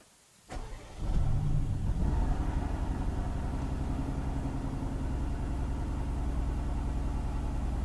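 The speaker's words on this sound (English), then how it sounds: "I'll let you guys hear the cold start of this car" A Mercedes-AMG GT R Special Edition engine starts cold: a quick starter crank, then a loud rev that settles into a steady, deep idle, close by.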